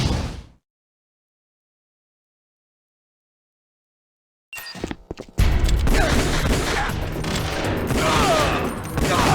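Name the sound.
gunfire in the video game Metal Gear Solid The Twin Snakes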